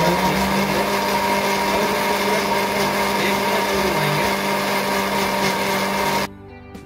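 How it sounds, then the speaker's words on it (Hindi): A mixer grinder whirs loudly and continuously as it blends mint chutney, a steady high motor whine that cuts off abruptly near the end. "ये देखिए हमारी चटनी ग्राइंड हो चुकी है"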